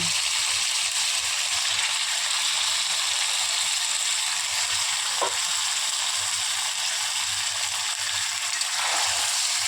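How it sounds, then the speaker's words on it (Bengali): Meat sizzles steadily in a pan with a cooked-down spice paste, a dense unbroken frying crackle with one faint scrape partway through. "মাংসগুলো ভালো করে কষিয়ে নেব।"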